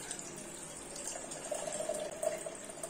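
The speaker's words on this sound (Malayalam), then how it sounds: "200 ml വെള്ളം" Measured water is poured steadily onto a large heap of sugar in a small vessel, a soft continuous liquid trickle with a faint ringing tone, close and quiet, without any talking.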